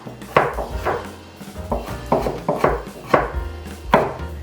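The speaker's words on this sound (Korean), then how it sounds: "통마늘은 굵게 다져주시면 되겠습니다" Knife chopping whole garlic cloves coarsely on a cutting board, about nine sharp, evenly spaced chops in a steady rhythm, close and clear with no talking.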